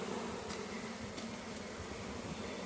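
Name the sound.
bees buzzing near a tree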